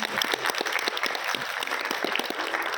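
A church congregation at a family dedication programme claps for a couple married 54 years, brisk and close, lively applause with no voices over it.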